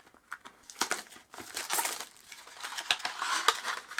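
Cardboard and plastic packaging crinkle and rustle up close as the box of a Lemorele 8-in-1 TC19 Plus USB-C adapter is opened, with steady handling noises, small taps and crumpling throughout.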